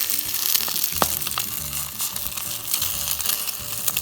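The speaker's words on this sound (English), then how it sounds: "I'm gonna use a spatula and start to scrape this up." A frying egg sizzles steadily in a nonstick pan while a spatula scrapes beneath it, with a few brief scraping strokes standing out over the constant crackle, close and moderately loud.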